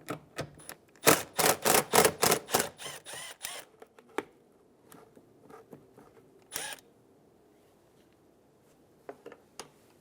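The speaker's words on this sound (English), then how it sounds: "Using a 10mm socket, we're going to remove one bolt, and there's going to be one more in this bottom right corner." A 10 mm socket ratchet removes bolts from the side mirror of a 2003-2008 Honda Pilot, giving a close run of quick clicking strokes at first, then scattered faint clicks and knocks in near quiet.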